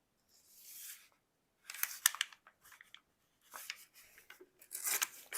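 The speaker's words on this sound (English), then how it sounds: "So I'm just going to cut this in half, or tear it in half" Paper is torn in half for a journal page, several separate bursts of crisp, close ripping and crinkling, with quiet gaps between them and no talk.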